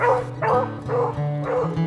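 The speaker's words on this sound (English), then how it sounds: "In the distance, the sound of a lone beagle." A lone beagle barking in the distance on a snowy winter rabbit hunt, four baying barks in a steady rhythm, clear and carrying, with no talk.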